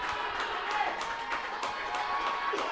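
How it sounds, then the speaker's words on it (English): Crowd at a live T20 cricket match in Nairobi cheering and applauding a boundary, steady clapping and roaring from a distant stand throughout, with a commentator's voice over it. "The crowd is elated."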